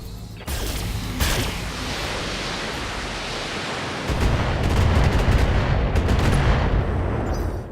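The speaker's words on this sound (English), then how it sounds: "Fire away. Discharging weapon." Mech weapons discharging in the BattleTech video game, a roaring sustained blast with sharp cracks, growing louder and heavier partway through, with no talk.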